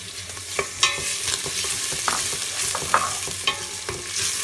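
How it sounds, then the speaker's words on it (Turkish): Around 300 grams of diced beef fries over browned onions in a pan and is stirred, giving a close, steady sizzle with sharp spatula scrapes and clicks against the pan at irregular intervals. "Bunu da bir güzel kavuruyoruz."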